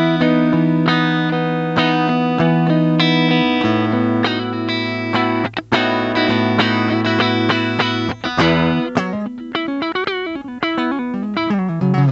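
Electric guitar played through a Roland Cube 20 XL amplifier on its clean channel, sustained chords and notes ringing steadily, then shorter plucked phrases toward the end, loud and close with no talking.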